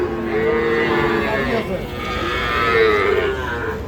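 Young calves at a busy cattle market moo loudly and continuously from close by, several drawn-out calls overlapping with little pause between them.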